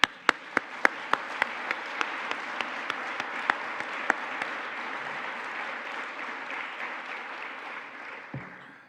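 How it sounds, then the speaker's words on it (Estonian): An audience at a national defence conference applauds. A few sharp individual claps ring out first, then a broad, even round of clapping builds and holds, moderately loud in a large hall, and tapers near the end. "Vähemalt minu poolt aplaus"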